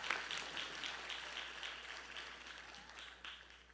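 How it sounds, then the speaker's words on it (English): A seated audience claps in a steady, sustained round of applause after a Bharatanatyam arangetram dance performance, the dense patter holding at moderate level for the whole stretch with a slight swell near the end. "Can we have another big round of applause for them"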